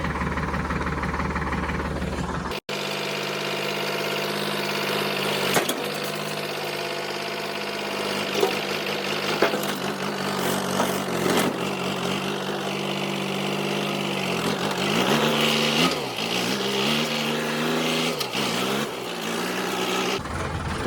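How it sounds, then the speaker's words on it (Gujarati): A tractor engine chugs steadily nearby as it sets off to haul soil from a pond, a continuous mid-pitched running note with slight shifts in speed and a brief cut near the start. "તો ટ્રેક્ટર નીકળી ગયા છે માટી ભરવા"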